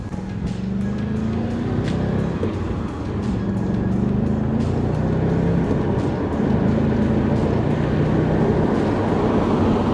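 Audi S5 coupé with a V8 and manual gearbox cruising on a country road, a steady engine drone with shifting pitch beneath road and wind noise, plus faint rhythmic ticks, no talking.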